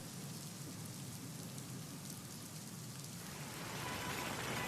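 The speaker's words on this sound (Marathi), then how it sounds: "प्रचंड पाऊस सुरू आहे त्यामुळे वाहतूकही मंदावली आहे।" Heavy monsoon rain pours steadily and loudly around Sion railway station in Mumbai, a dense continuous hiss of drops on surfaces that swells slightly toward the end.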